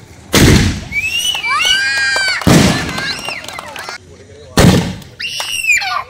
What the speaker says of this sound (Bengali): তো এবারে আতশবাজি শুরু হচ্ছে